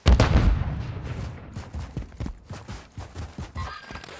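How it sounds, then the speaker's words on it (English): A stun grenade goes off in Call of Duty: Modern Warfare III with a loud, close burst at the start, followed by a quick run of sharper thuds and shots that fade somewhat toward the end. "Stun grenade out!"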